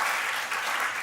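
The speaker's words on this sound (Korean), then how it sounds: "우리 현욱이 자주 못 볼 거니까 박수" Congregation applause during a Sunday worship service in a church, a short, steady burst of many hands clapping together at fairly even loudness with no voices over it.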